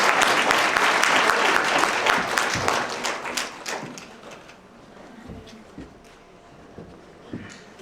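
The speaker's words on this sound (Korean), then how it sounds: "우리 축사자에게 박수 부탁드리겠습니다." Wedding guests in a convention hall applaud the congratulatory speaker, loud dense clapping at first that fades over several seconds into scattered, sparse claps.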